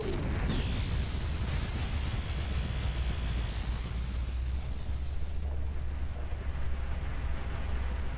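An accidental explosion on a base in the video game Front Mission 3, a loud rumbling blast that roars on steadily with a sweeping tonal whine on top and no talking.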